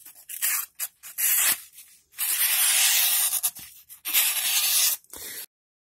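A freshly sharpened Ganzo Firebird FB7551 cleaver slicing through material in a series of close, brisk rasping strokes with brief pauses between cuts.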